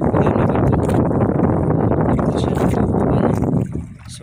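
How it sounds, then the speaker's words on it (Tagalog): From a small fishing boat at Cambagol Reef, strong wind buffets the microphone over choppy water in a loud, continuous roar that eases slightly near the end. "Ayan, medyo maalon at saka maangin."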